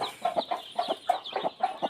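A native country hen, kept for hatching eggs, clucks in quick, repeated short bursts. The sound is close and clear, with no talk over it.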